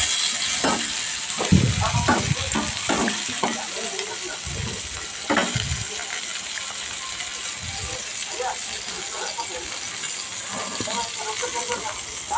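Capsicum is stirred with turmeric powder in a frying pan, making a continuous sizzle with scattered scraping and clinking from the stirring utensil.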